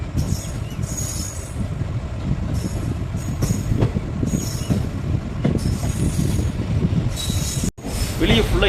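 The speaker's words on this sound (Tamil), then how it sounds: "ட்ரெயின் வந்து ஆன் டைமில் தான் போயிட்டுருக்கு." Erode to Mettur Dam express train running on the rails at night, a steady close rumble of wheels with squealing and clacking, a brief dropout near the end.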